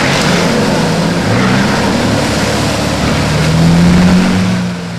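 A 4WD vehicle reverses out of a muddy bog hole, its engine droning loudly and steadily throughout, rising in pitch and strain toward the end before easing off, with no talk.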